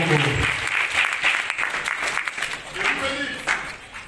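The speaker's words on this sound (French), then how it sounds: "Linda Cotte, sous vos applaudissements." Audience at the second Nzonzing Awards ceremony applauds steadily as an honoree from Paris is introduced, loud continuous clapping with crowd noise filling the hall throughout.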